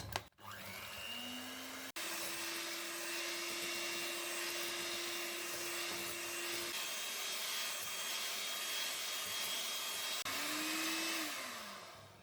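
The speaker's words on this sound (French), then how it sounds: "Je vais venir fouetter le tout jusqu'à ce que ça commence à épaissir un peu." An electric whisk drones steadily at close range, whipping cream with vanilla and mascarpone for a chocolate birthday cake, its motor pitch shifting slightly as it starts and slows near the end.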